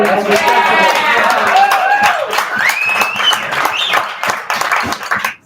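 An audience claps loudly and close, with bright whoops and voices rising over the patter before the applause tapers off at the end.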